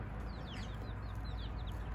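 A pet hen named Kınalı clucks in a farmyard, several short soft clucks repeating in quick succession over a low steady background hum.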